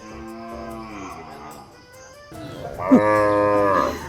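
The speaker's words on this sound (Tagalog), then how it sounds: "May kalabaw po na bagong dating." Two long, deep moos from a water buffalo nearby, the second louder and rising in pitch, with faint background noise.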